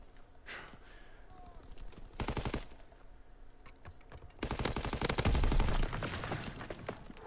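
Rapid bursts of automatic gunfire from a Call of Duty WW2 weapon, one short volley followed by a longer, louder sustained burst with faint game ambience between.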